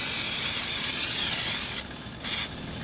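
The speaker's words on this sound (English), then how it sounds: "Then I'm gonna spray this pan butter spray." Hissing spray from an aerosol can of butter spray onto a pan, a long burst followed by a brief second spritz, close and fairly loud.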